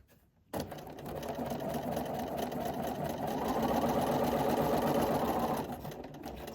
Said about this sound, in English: I'm going to hold on to the threads and I'm going to slowly start sewing.